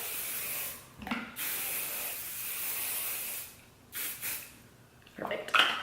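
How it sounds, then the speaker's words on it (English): Hairspray spritzed over curled, styled hair extensions in several separate hissing bursts of varying length, close and fairly loud, with quiet pauses and faint breathing between them. "Spritz it over with some hairspray"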